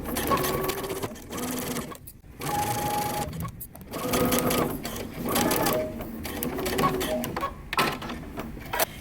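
A sewing machine stitches through all thicknesses of a moto jacket facing along a 1/4 inch seam, whirring in several bursts separated by brief pauses, with a voice speaking at times.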